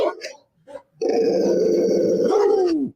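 Played dog sound effect: a few short barks and yelps, then one long, loud, sustained growling snarl lasting about two seconds that drops off abruptly.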